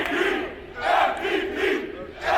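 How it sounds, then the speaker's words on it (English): A basketball crowd in a college playoff gym chants and serenades a player at the free throw line, a loud rhythmic swelling and falling roar of many voices. "Falcon crowd serenading him now"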